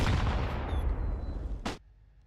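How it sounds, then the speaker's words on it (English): A loud Counter-Strike artillery-style barrage of booming explosions and gunfire rumbles close up, then stops abruptly after one last sharp crack. "Artillery barrage."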